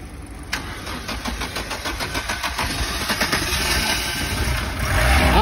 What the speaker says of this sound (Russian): Ай, молодец, завел.